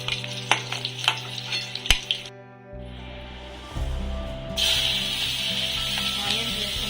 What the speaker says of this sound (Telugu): ఈ గుడ్లు అనేవి లైట్గా గోల్డ్ కలర్ వచ్చే వరకు ఫ్రై చేసుకుంటే సరిపోతుందండి